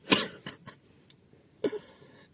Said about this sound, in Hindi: खांसी क्यों बढ़ रही?